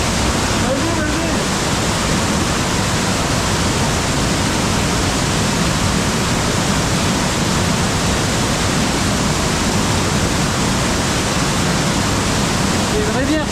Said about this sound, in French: C'est une rivière souterraine là,